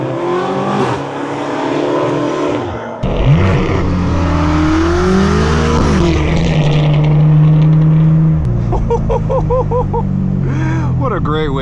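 Straight-piped BMW M4 F82 with loud exhaust while driving, a heavy continuous engine roar with rising and falling revs throughout, close and dominant, with a voice talking over it.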